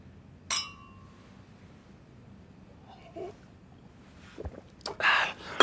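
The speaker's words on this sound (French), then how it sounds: "Allez, on trinque un nouveau départ." Two drinking glasses clink once in a quiet indoor toast, a bright short ring, followed by soft murmured voices, a breath and rustling movement near the end.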